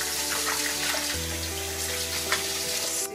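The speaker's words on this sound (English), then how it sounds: "Now we want to give them an ice cold bath. Wash them really well." Cut potatoes for homemade French fries are rinsed in an ice cold water bath, with water running and splashing steadily throughout and no talking.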